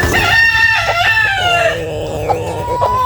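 Farmyard chickens cluck and a rooster crows loudly and close at feeding time on a rainy day, the drawn-out crow ringing over overlapping clucks for about three seconds with no talking.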